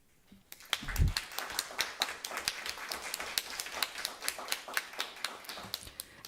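Audience applause at a school board meeting: a steady run of scattered hand claps, fairly quiet and even, lasting several seconds in a room.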